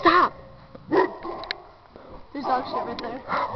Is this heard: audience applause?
no